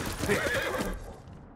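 A summoned horse in the Ghost of Tsushima video game lets out a loud, close whinny with a wavering, shrill rise that fades out after about a second.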